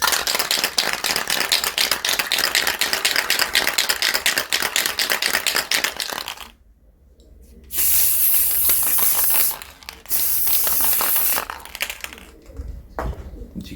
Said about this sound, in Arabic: نجرب بقى الديوك سبراي بينت